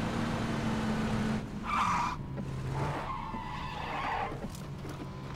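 Motorbike engine in the video game PlayerUnknown's Battlegrounds, a moderate whining drone that rises and falls in pitch as it moves through the distance under a steady noisy background.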